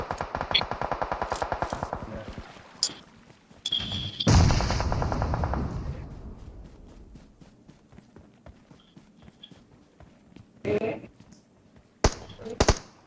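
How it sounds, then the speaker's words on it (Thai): Bursts of rapid gunfire in PUBG with sharp single shots, loud and close, separated by quieter stretches of clicks and footsteps. "มันยิงมามันยิงมา"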